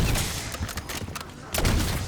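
A sniper rifle fitted with a CHF barrel fires in a video game. Two heavy, booming shots land about a second and a half apart, loud and close, with rumbling echoes between them.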